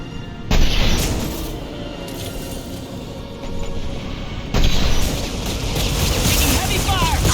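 A heavy weapon fires and explodes in Mass Effect 2, with two loud booming bursts over a rumbling, roaring battle backdrop.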